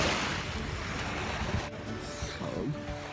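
Sea waves wash onto the shore near the Kingdom of Aladdin, a steady broad rush with gusting wind noise across the microphone and faint voices in the background.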